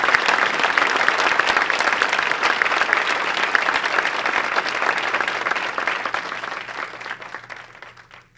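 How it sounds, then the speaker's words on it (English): Sustained applause from a luncheon audience, many hands clapping in a dense, even roar that holds steady and then tapers off toward the end. "So my applause to all of you standing"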